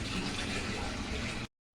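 Distilled water for an ethanol fermentation mash pours in a continuous, full, close gush, stopping abruptly after about a second and a half.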